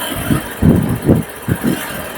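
A vehicle engine starts after its starter coil is replaced, then settles into a close, loud, uneven idle with rhythmic chugging pulses, with no one talking.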